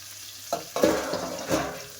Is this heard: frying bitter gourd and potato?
yes